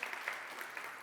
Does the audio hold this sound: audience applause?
yes